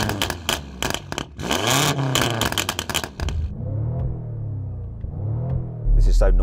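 A car engine revs up and down in bursts, loud and close, with a rough, raspy exhaust note and a couple of throttle blips.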